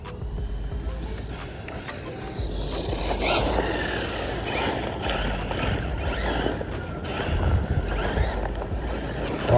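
A Rlaarlo DSK-8 1/8 scale RC buggy kit, running without a fan on the motor, scoots over rocks with a fluctuating motor whine and scattered clattering and crunching, fairly close and moderately loud.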